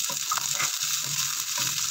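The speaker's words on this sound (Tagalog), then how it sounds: "Ngayon, magisa na tayo ng bawang sibuyas guys." Garlic, onion and chili sautéing in a pan, a steady bright sizzle and crackle with soft scraping stirs repeating every half second or so, close and continuous.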